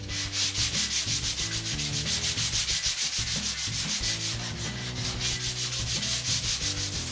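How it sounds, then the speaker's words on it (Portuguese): Car body filler being hand sanded with 80-grit sandpaper on a block, a steady rhythmic back-and-forth rasping of rapid strokes, loud and close with no talking. "agora eu vou finalizar com a lixa 80 no taco"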